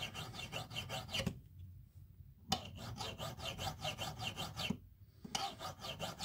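Hand file rasping cuts into a bead grain for earrings, a close, steady back-and-forth scrape with rhythmic strokes and two short pauses, no voices.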